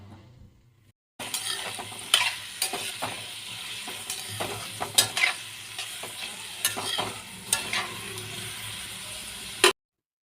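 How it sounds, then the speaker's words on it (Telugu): After a brief quiet start, onions, green chillies and curry leaves fry loudly in oil for chicken curry, a dense sizzle broken by frequent clattering stirs of a spoon against the pan. "కడిగి పెట్టుకున్న కరివేపాకును కూడా వేసేసుకుందాము ఇవన్నీ కూడా కొంచెం సేపు వేగనిద్దాము"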